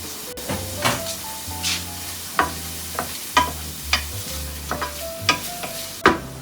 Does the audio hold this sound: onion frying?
yes